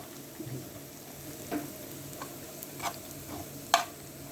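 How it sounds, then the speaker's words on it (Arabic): Onions fry in a pan, browning with a soft, steady sizzle, and a few light ticks and scrapes from stirring come through close and fairly quiet. "ودول بقى شوية البصل اللي احنا هنحطهم فوق وش الطبق بره، بنسيبه يعني ياخد لون شوية"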